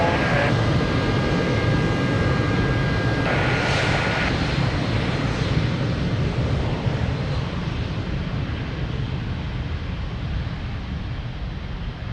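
Aircraft engines at Lisbon Airport, a loud, steady broadband roar holding throughout, near and continuous with a brief tonal whine early on, no voices.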